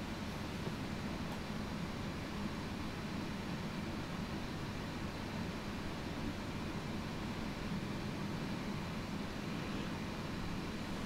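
Boeing 747-8i being pushed back from the gate in Microsoft Flight Simulator, a steady broadband engine and airframe rumble holding at an even level throughout, with no talk.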